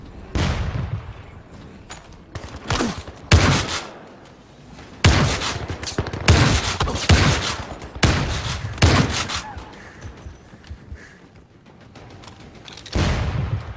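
An M2 Browning heavy machine gun firing in the shooter Zero Caliber Reloaded, loud long bursts of rapid thudding shots separated by short pauses, repeating across the stretch with a final burst at the end.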